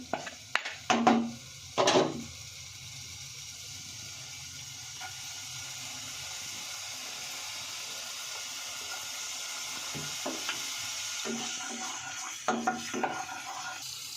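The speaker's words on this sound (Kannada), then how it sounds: "ಇವಾಗ ಅದಕ್ಕೆ ಜಿಂಜರ್ ಮತ್ತು ಗಾರ್ಲಿಕ್ನ ಕಟ್ ಮಾಡ್ಕೊಂಡಿರೋದು ಹಾಕ್ತಾ ಇದ್ದೀನಿ" Chopped ginger and garlic dropped into hot oil, opening with a few sharp clatters of a utensil against the pan, then a steady low frying sizzle with occasional stirring clinks.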